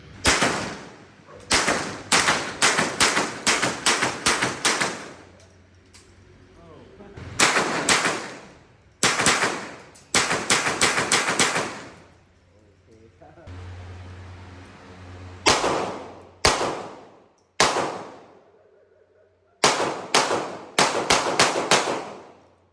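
Handgun shots, including .45 and magnum pistols, at a shooting range in Thailand. Loud, sharp reports come close by in quick clusters of several shots, with short pauses between strings and brief voices in the gaps.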